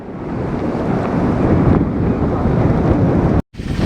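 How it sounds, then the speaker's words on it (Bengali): Strong wind buffets the microphone outdoors on a rainy, stormy day, a loud continuous roar of gusts that drops out abruptly for a moment near the end before resuming. "বৃষ্টি কি বৃষ্টি আর কি হাওয়া এখানটাতে আজকে"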